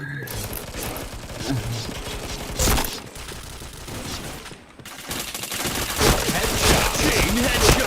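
Dense bursts of rapid automatic gunfire in a shooting video game, loud and nearly continuous, with a brief lull midway before the fire resumes heavily.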